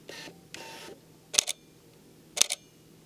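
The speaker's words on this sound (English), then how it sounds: "I hate the, let me see if I can get this, the sound of the shutter" A Canon R8 camera shutter fires twice, each release a close, crisp double click about a second apart, with softer mechanical whirs just before.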